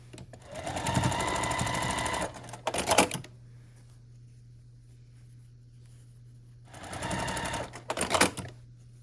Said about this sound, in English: I'm just going to sew them each together